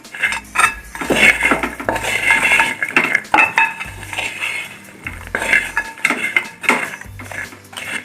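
Sarkara varatti, banana pieces coated in jaggery and sugar, is stirred in a pan with loud clattering, scraping and knocking of metal in bursts, close by, with no talking.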